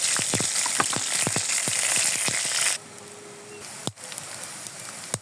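Dried chilies, onion and garlic frying in a pan with a dense crackling sizzle and rapid stirring clicks, then the sizzle drops away abruptly, leaving quieter scattered pops and a single sharp knock.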